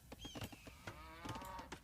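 Cattle mooing in the Age of Empires II strategy game: several overlapping, drawn-out moos, loud and close, with no speech.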